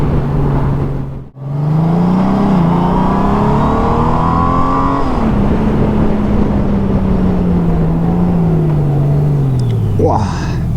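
A Honda Goldwing 1800 DCT motorcycle accelerates with a loud, close engine note that climbs and holds, dips once near the start, then falls away toward the end.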